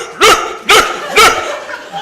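A storyteller at a live story slam imitates a dog's relentless barking with his voice, producing three loud, evenly spaced barks in quick succession.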